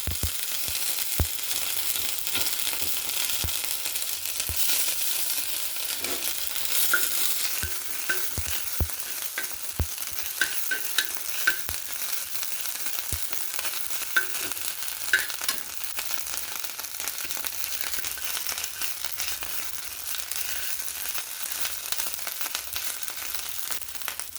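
Cumin, fennel and dried chilli with ginger paste crackle and splutter in hot oil, a busy sizzle with scattered sharp pops and occasional stirring clatter throughout.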